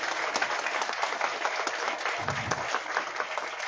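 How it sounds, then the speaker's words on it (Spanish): Applause from a crowd at a school inauguration ribbon-cutting in La Caleta, Boca Chica, a steady, fairly distant wash of clapping that runs briefly without a break. "¡Fuerte el aplauso!"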